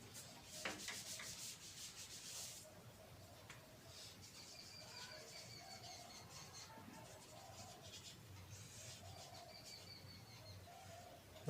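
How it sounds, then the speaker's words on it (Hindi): Chalk or marker scraping and rubbing across a classroom board in short repeated strokes, faint and close, with soft taps between the strokes. "फिर से लिख देता हूँ।"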